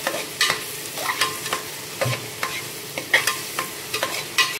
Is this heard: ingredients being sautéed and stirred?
yes